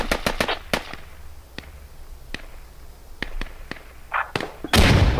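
Grenade explosions in a competitive online shooter match: a burst of sharp, close blasts at the start, then scattered isolated bangs through the middle and a loud heavy boom near the end, over low background noise.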